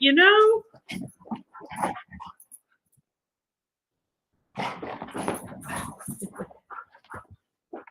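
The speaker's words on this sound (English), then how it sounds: "These silly girls, these silly dogs, they're all just having a blast right now." Several dogs play and whimper, with a high whine up front and scattered yelps and grumbles; someone talks over them in bursts after a short quiet gap.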